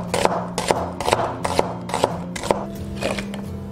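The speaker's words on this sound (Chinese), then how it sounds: "然后切丝" A knife chops an onion into strips on a cutting board, making about eight steady, evenly spaced thuds close by with no talk.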